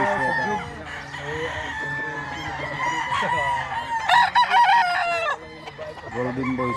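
A Golden Boy sweater rooster on a farm crows loudly up close in a long drawn-out call, followed by clucking and other chicken sounds from nearby birds.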